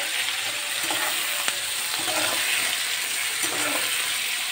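Pointed gourd fries with tomato and green chili in a pan, giving a steady, close hiss of sizzling oil. Faint scrapes of stirring come through now and then, and no one talks.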